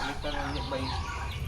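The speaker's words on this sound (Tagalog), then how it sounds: "Ito na ang ating mga manok mga langga." Chickens on a backyard farm cluck and squawk in short, close bursts, several birds calling over one another in a brief, busy flurry.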